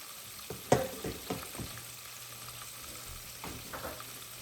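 Cube steak sizzling slowly in a pan, a steady low frying crackle with occasional sharper pops and a couple of stirring clinks, fairly quiet and close with no talking.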